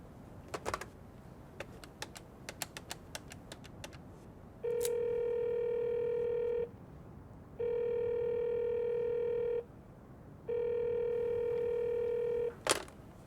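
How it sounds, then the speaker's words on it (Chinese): Quick clicks of buttons being pressed, then a phone line ringing three times in long, evenly spaced tones, fairly quiet and close. "我会照妈的意思，先打电话给杨教授，还有周小姐。"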